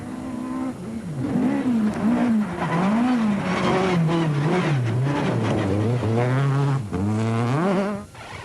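A VW Golf rally car is driven hard on a stage, its engine roaring and revving up and down through gear changes, loud and close with rising and falling pitch sweeps and a brief lift near the end.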